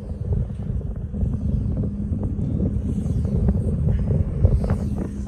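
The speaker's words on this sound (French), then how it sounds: "Comment ça fait un de ces bruits quand ça tourne la WinWind?" A WinWinD wind turbine turning at the Bignan wind farm gives a steady, loud low rumble that holds evenly throughout, with no talking.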